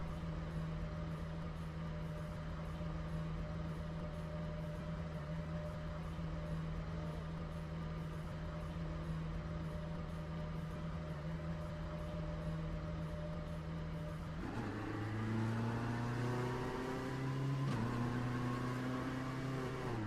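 LMP1 and LMP2 prototype race cars at Sebring International Raceway in a racing video game drone steadily at a constant engine pitch, then rev up and change pitch in rising and falling sweeps as they restart.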